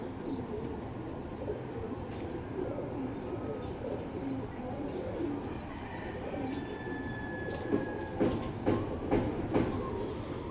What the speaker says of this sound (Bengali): এইগুলো কিন্তু ফ্লাই করা কবুতর, রানিং ফ্লাই করা কবুতর